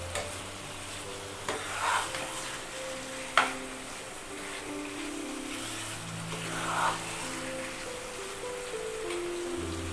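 Mutton being stirred with turmeric powder in a pan, a steady soft sizzle under faint scraping with a few louder stirring knocks, close and fairly quiet, without talk.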